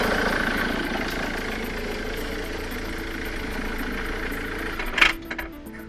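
A Ford Mondeo Mk3 engine runs in gear with its belt back on, a steady mid-pitched hum and vibration throughout, ending in a short clatter and a few brief knocks near the end.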